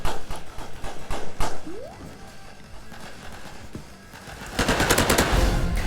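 Gunfire in the shooter video game Hypershot, with rapid bursts of automatic fire and scattered shots, loud and close, intensifying near the end.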